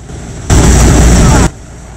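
A helicopter discharges static electricity without any grounding precautions. A loud, harsh crackling burst starts abruptly, holds for about a second, then cuts off sharply over a quieter background.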